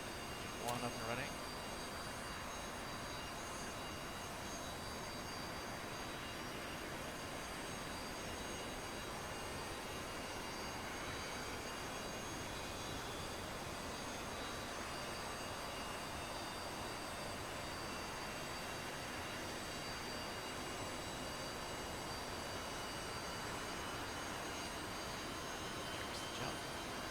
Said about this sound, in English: Get engine 1 up and running.